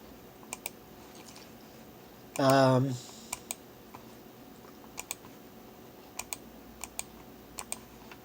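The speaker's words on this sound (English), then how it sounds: "hold on, I'm trying to type something" Typing on a computer keyboard: sparse, isolated key clicks spaced irregularly through the clip, close and crisp, with a brief voiced sound partway through.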